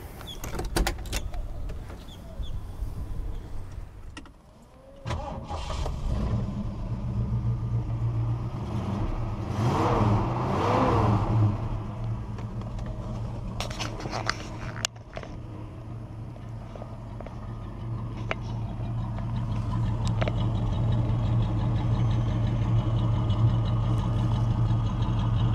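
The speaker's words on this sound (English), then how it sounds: "So let's get the car fired up," A 1969 Mercury Cougar is started: a few seconds of cranking and stirring, a brief drop, then the engine catches with a rev and settles into a steady, close, rumbling idle that keeps running to the end.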